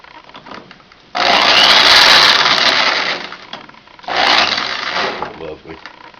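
A power drill spins a brass cartridge case for a 9x18 Makarov pistol, clamped to a workbench on a flat-stock mount. It runs as two loud, steady whirring bursts, a longer one and then a shorter one, with quieter room noise between them.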